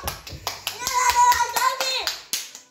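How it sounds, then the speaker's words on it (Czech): Rhythmic hand clapping by a group at a child's seventh birthday party, sharp regular claps continuing while a voice and other voices chime in over them. "Zatleskáme!"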